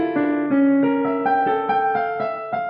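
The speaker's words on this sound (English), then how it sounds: "The first measure on piano sounds like this." The first measure of a piece played on piano: a flowing, twisting line of distinct single notes struck one after another at a moderate pace, each ringing with clear sustain. It is clean and close, with no talking.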